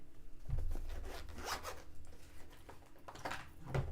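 A sharp X-Acto knife slices out a serged seam in bed-sheet fabric, close and loud. The cuts come as a series of quick, raspy zips and tearing strokes, with no talking.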